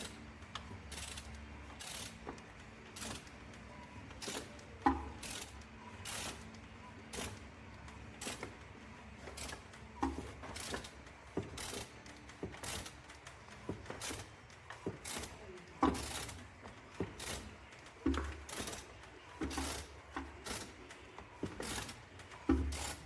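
A BMW X3 N47D20C diesel engine with a broken camshaft chain is turned over by hand for a cylinder compression test, producing repeated ratcheting clicks and mechanical clunks in an uneven rhythm, close and moderately quiet.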